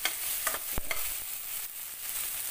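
Onions, garlic and tomatoes fry together in a pan with a loud steady hiss, broken by several sharp scrapes and knocks of a spoon stirring them.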